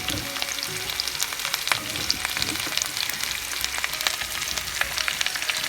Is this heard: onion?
yes